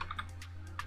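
Quick keystrokes tapped on a computer keyboard while a Spigot server is set up, a few clicky presses over a steady low hum, close and fairly quiet with no talking.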